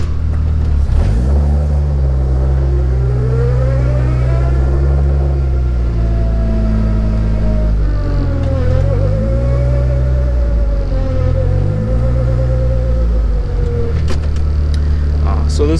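A 2005–2006 Acura RSX with EP3 Si gears and a cheap limited-slip differential fitted, driving slowly in reverse. A steady low engine drone with a gear whine that rises and falls, loud and close, and no talk over it.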